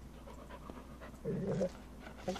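A dog panting and munching its food in Farming Simulator 25, quick close breaths followed by a louder burst of chewing and lapping, alone without talk.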